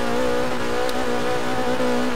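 Porsche 944 Group B rally car engine in Forza Horizon, running on tarmac: a loud, steady, high-revving drone held close and unbroken, with a faint tick briefly cutting through, no voices.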